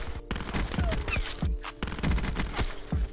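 Daemon 3XB SMG fitted with a rapid fire attachment in the video game Black Ops 4, firing dense, continuous bursts of very fast shots, loud and close, with brief gaps between strings and game effects underneath.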